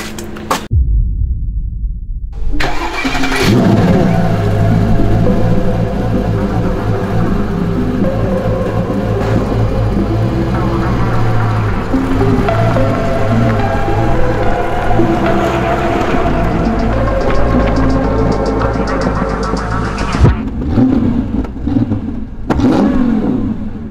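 Mercedes S-Class with a 5.0 V8 and manual gearbox, set up for drifting, runs steadily close by with a deep throbbing idle and rising revs, holding a loud continuous drone throughout before dropping off near the end.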